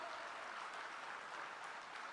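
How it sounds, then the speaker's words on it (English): Dense, continuous clapping from a big audience at a formal ceremony, steady and fairly loud throughout the short stretch with no voices on top. "Can we have a louder applause?"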